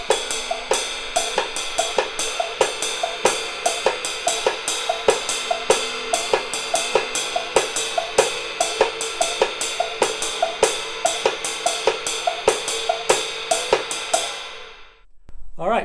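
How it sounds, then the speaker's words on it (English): Afro-Cuban 12/8 drum pattern played on a kit, with steady ride cymbal, a cowbell carrying the left foot part and cross-stick clicks, looping evenly and close for about fourteen seconds before stopping abruptly, with no talking. "I'm going to play the left foot part on a cowbell."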